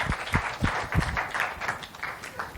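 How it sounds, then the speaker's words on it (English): An audience breaks into a round of applause, with scattered sharp claps standing out from a steady, moderately distant patter of many hands. "Give him a big round of applause"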